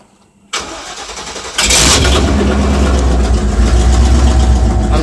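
A 1995 K-1500 truck engine cranks briefly after a moment of quiet, then catches and roars to a loud, steady idle up close.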